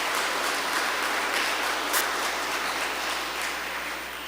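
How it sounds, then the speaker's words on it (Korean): Steady applause from the audience at a Catholic reading concert, a dense, continuous wash of many hands clapping at even loudness that tapers slightly at the end. "근데 지금 박수 치면서 웃으면서 박수 치는 분이 있고요"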